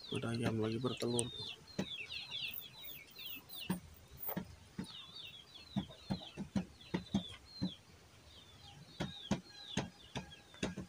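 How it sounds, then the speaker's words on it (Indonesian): Chicken clucking after laying an egg at a village house, a string of sharp repeated clucks close by, with a voice talking briefly at the start. "Ada ayam lagi bertelur."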